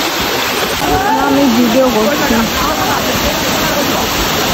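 A waterfall at Sreemangal pours in a steady, loud, broadband rush, while someone speaks briefly over the roar near the start.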